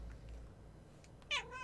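A single short meow, voiced by a person imitating a cat, rises near the end over quiet low background hum.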